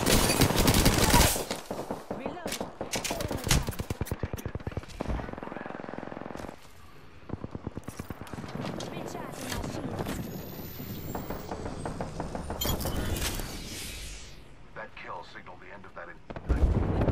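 Rapid video game gunfire rattles in dense bursts and heavy booming volleys during a squad match in a cage fight mode, loud and nearly continuous, with players talking over the shooting.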